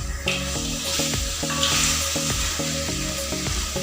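Black pomfret fries in spicy sambal in a pan and gets flipped: a steady, close, bright sizzle runs throughout, with faint rhythmic background music beneath and no talk.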